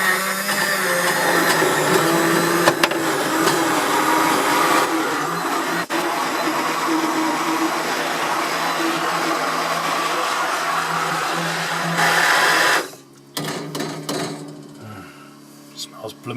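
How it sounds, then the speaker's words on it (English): A countertop blender whirs steadily while blending a sweet chestnut flour mixture, with a generator running in the background, then cuts off abruptly near the end, leaving quieter rustling and knocks. "All I have to do is blend it up"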